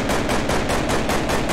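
Rapid pistol gunshots from a modded gun in Minecraft fire in a fast, evenly spaced burst of close, loud cracks across the whole moment, with no voices.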